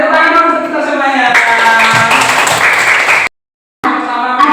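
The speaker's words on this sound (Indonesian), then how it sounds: "Kita tepuk untuk kita semuanya." Students in an Islamic religious education classroom clap their hands together while their voices chant along loudly. A brief dropout of silence cuts in before the clapping and voices resume.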